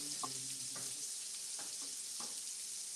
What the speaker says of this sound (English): Cooking the onions and mushrooms.